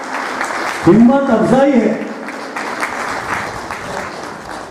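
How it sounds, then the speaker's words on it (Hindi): Scattered clapping from a group at an education society award event continues underneath someone speaking briefly in Hindi over a microphone, the applause steady and moderately loud. "तालियों के गूंज होना चाहिए।"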